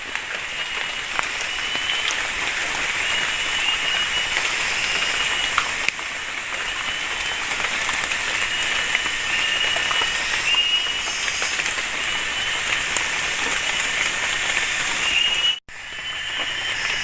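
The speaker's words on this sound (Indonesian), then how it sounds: "Hujan guys, hujan." Heavy rain pours steadily onto a treehouse in a forest, a dense, loud, unbroken hiss throughout that cuts off abruptly near the end.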